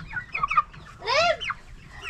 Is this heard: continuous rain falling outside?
no